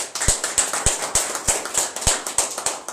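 Applause at a party membership event at a hall in Maroua, loud and fairly close, with sharp claps landing in a steady rhythm over a softer wash of scattered clapping.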